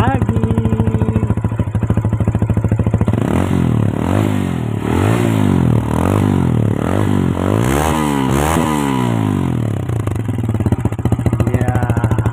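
A Benelli 150S motorcycle with a cut exhaust idles with a rough, popping note, then revs up and down several times in quick swells before settling back to idle.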